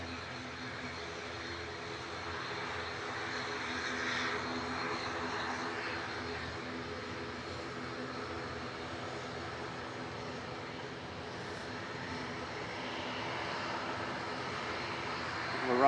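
A Qatar Airways airliner at Manchester Airport makes a moderate, continuous engine roar that rises slightly near the end, with no talk over it.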